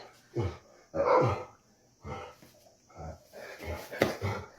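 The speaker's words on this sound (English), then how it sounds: "Don't mind the dog." A dog barks repeatedly in short irregular bursts, fairly close and loud, with little else around it.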